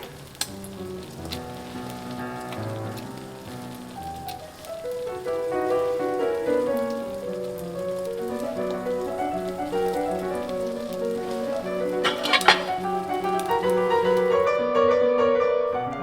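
Diced tofu and egg frying in a covered pan, a continuous loud sizzle like rain on a surface, swelling gradually with scattered crackles and pops.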